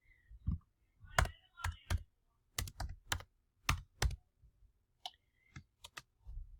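Keys on a computer keyboard click in short bursts of separate taps, close and quiet, with uneven pauses between keystrokes and nothing else in the background.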